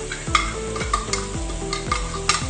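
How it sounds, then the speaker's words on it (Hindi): Chicken with yogurt and spices sizzling in a karahi while being stirred, giving a loud close hiss broken by repeated rhythmic scrapes and swishes of the spoon, with no talk. "अब इसको हम दही के साथ अच्छे से भूनेंगे।"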